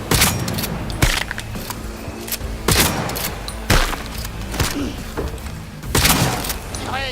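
Bursts of gunfire in the video game Cyberpunk 2077, loud repeated shots and thuds in irregular volleys over several seconds, with some background game noise.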